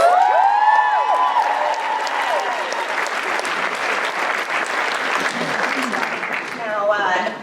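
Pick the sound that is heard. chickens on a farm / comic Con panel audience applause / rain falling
comic Con panel audience applause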